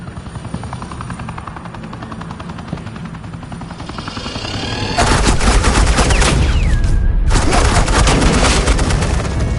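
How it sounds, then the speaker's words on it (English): Loud, sustained automatic gunfire from a Batman video game, with dense rapid bursts and a helicopter-like drone underneath growing stronger over the second half; no talking. "suppressing fire."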